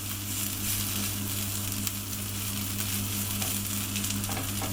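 Two small onions caramelise over low heat in a pan, a constant close frying sizzle with a low steady hum and occasional soft stirring.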